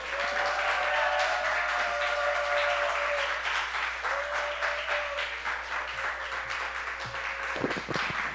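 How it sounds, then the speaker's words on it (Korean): A church congregation claps and cheers loudly for an arriving pastor, a dense, steady wash of applause with whoops and sustained shouts rising over it, carrying on for several seconds before thinning slightly near the end. "큰 환호와 여러분 잘 하시는 박수로 모시겠습니다."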